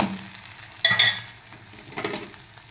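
Onions fry with ginger garlic paste and tempering spices in hot oil, giving a soft continuous sizzle and a couple of louder stirring bursts as the pan is scraped.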